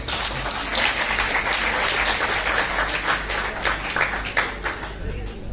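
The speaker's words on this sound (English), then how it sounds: "Let's welcome him with a huge round of applause" Applause from an audience welcoming a speaker onstage at an e-summit, a dense run of many hands clapping that holds steady, then thins into scattered claps near the end.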